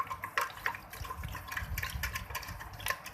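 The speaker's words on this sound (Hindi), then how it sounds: "दही को इस तरह अच्छे से भिगोने के बाद इसके अंदर डालेंगे पानी।" Cold water pours from a kitchen vessel into soaked curd for lassi, a close, uneven splashing trickle that runs in short bursts.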